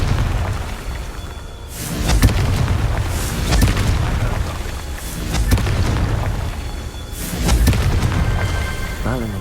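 Repeated booming blasts of the Confringo explosion spell in Hogwarts Legacy, several heavy bursts spaced a couple of seconds apart over a steady low game rumble.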